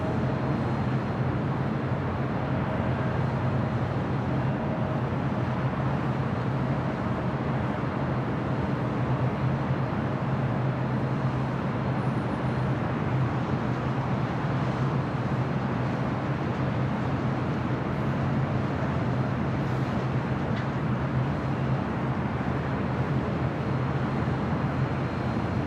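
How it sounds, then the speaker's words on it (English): A Boeing 787-9 Dreamliner of Air Tahiti Nui, arriving from Paris, lands at LAX, its steady broadband jet roar holding loud and even throughout with no voices. "This is Air Tahiti Nui, flight coming in from Paris, 787-9 Dreamliner."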